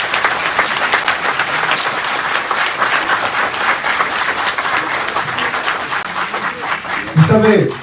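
An audience applauds warmly at a book launch in Nouakchott, a dense, steady wash of clapping that holds for several seconds before a few voices and a chuckle break through at the end.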